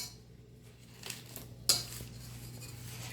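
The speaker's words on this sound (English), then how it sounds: "I have pure butter here, and I'm going to cut it up and add it to my potatoes." Pure butter being cut up and added to mashed potatoes in a home kitchen, heard as faint clinks and scrapes of cutlery against a dish and pot, a few light knocks with one sharper clatter, no talk.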